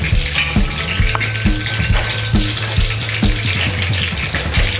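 Mustard seeds sizzle and pop in hot oil, a steady crackling fry dotted with sharp little bursts and a faint tonal hum beneath, close and continuous.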